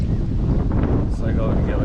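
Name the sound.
wind blowing into the microphone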